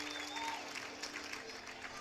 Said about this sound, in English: And a nice round of applause for Edgar